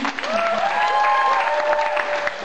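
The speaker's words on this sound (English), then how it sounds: "Now for the final round we have some applause, please?" Audience applause at a youth talent show game, a steady wash of clapping filling the room for about two and a half seconds, with a few cheering voices and whistle-like tones rising over it.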